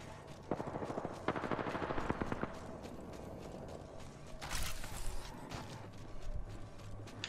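Rapid automatic gunfire in the Apex Legends battle royale game, bursts of quick shots starting near and loud, then more scattered shots and impacts trailing off.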